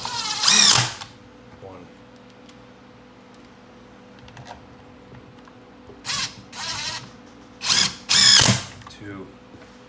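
A handheld power driver sets screws into the cover of a Stihl power tool in loud, short whirring bursts, one early and several more later, with a voice counting between them.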